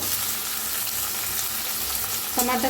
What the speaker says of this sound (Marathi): कोथिंबीर तेलात भाजली की नाही खूप छान लागते खायला